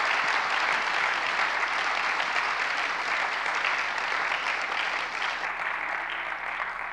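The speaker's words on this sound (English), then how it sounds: "One more round of applause for all of our panelists today." Sustained audience applause for the panelists at a breakfast forum on unsheltered homelessness in Portland, a dense, even wash of clapping from many hands holding steady throughout and thinning slightly near the end.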